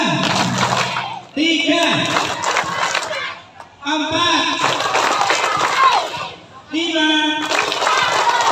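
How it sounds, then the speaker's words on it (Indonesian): Children at an elementary school clap in time as a voice counts aloud, with loud bursts of clapping separated by short pauses. "Oke, tepuk 1, 2,"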